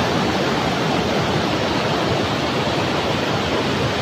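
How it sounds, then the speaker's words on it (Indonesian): Fast, heavy water rushes steadily at a sulfur spring waterfall in Baturraden, Central Java, a loud, unbroken roar that fills the whole clip with no voices over it. "Airnya seperti balapan bro, kenceng banget bro."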